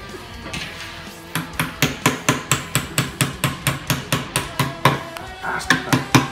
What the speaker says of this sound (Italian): martellino